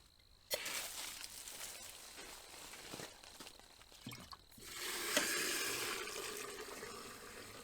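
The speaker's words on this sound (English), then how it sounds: "I want to let water run down into the tank and wash out anything that might be in the bottom" Water runs from a hose into the tank of an outdoor wood boiler, a steady hissing splash that starts abruptly, pauses briefly, then resumes louder and continuous.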